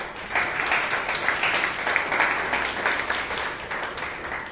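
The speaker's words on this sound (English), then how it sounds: "Round of applause for him" Steady, moderately dense applause from the room at a Toastmasters club meeting in Bangalore, an even patter of many hands that continues without a break.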